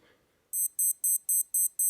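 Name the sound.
digital watch timer alarm beeping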